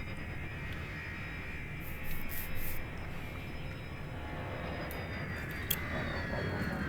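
Spaceship engines roar at full power in Elite Dangerous as a steady, dense jet-like rumble, joined by brief higher whines and a few clicks, with no voice over it.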